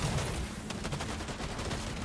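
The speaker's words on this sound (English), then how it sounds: "Someone's shooting at us." Dense, continuous Fortnite gunfire crackles steadily, a loud rattle of overlapping shots with no pause.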